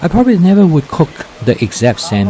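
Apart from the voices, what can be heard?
No distinct noise like a dog, phone or traffic.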